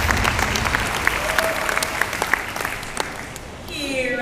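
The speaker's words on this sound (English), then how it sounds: "please give a round of applause to our training team." Audience at a dolphin water show applauds, a dense burst of clapping from a crowd that is loud at first and fades slightly toward the end, with a faint electronic tone rising at the close.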